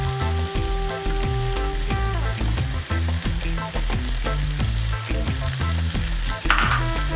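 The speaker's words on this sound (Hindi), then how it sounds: "कैप्सिकम डाल के अब हम इसको थोड़ा फ्राई करेंगे" Finely chopped capsicum frying for Hakka chicken, a dense steady sizzle with crackle throughout and repeated thumps of stirring, close and loud with no talking.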